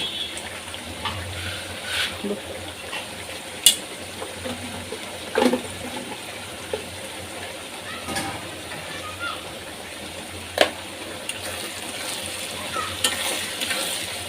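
Tomato and chili powder masala sizzling and frying in a pan, stirred steadily with a utensil, with a continuous hiss broken by occasional sharper scrapes and clinks over about fourteen seconds, no talk.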